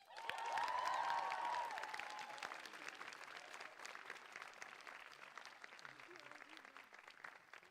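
Steady audience applause fills a college closing ceremony hall, swelling at the start with a brief cheer, then settling into sustained even clapping from a large crowd.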